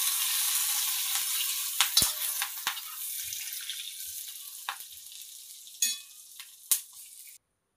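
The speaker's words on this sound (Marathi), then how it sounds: "मिश्रणाचं एकसारखं हलवायचं." Chilli with cumin and garlic fries and sizzles in a pan after the gas is switched off, a steady hiss fading gradually as a spoon stirs, with several sharp scraping clinks against the pan near the end before it goes quiet.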